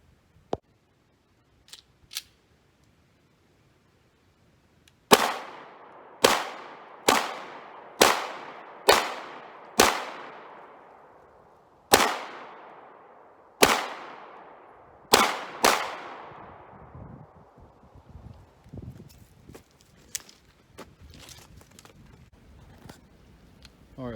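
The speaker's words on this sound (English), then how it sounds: "take some shots and see what happens" A Taurus G2C 9mm pistol fired at a target about 30 feet away outdoors: about ten sharp, loud shots at irregular intervals, each with a short decaying echo, followed by quieter clicks and handling sounds.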